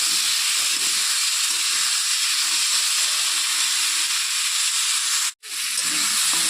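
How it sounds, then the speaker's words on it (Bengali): Potatoes and tomato sizzle in hot oil with a steady, close hiss, broken by one brief cut-out near the end. "আলুর সঙ্গে টমেটোটাকে আমি একটু লাল করে ভেজে নেব"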